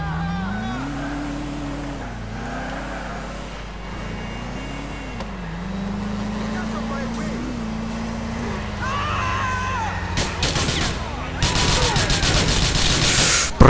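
Rapid automatic gunfire in Grand Theft Auto IV erupts in dense bursts near the end, over a continuous droning car engine whose pitch rises and falls throughout.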